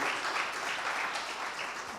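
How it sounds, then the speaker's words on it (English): Audience at the INFOCOM 2022 startup forum applauding, a steady, dense wash of clapping from many hands that carries through the full two seconds without a break. "I think ma'am deserves an applause, a bigger one."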